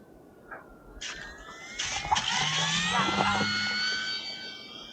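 FMS Super Cub 1300mm RC plane on floats doing a touch and go on snow, its small electric motor whining up in rising pitch and staying close and fairly loud, with bird calls early and a voice in the background.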